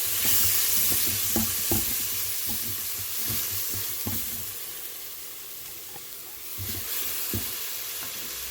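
Garlic and ginger frying in an Instant Pot for a jackfruit biryani, a steady close sizzle with soft scraping stirs scattered throughout and no voices.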